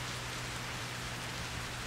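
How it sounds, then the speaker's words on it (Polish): Steady rain in the Cattle and Crops farming video game, a dense, even hiss of falling drops with a low hum beneath, continuous and without talk. "akurat nam się trafił deszczyk"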